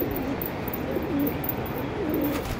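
Pigeons perched on a hand coo and call in repeated soft, low rolling phrases, close by over a steady background hiss.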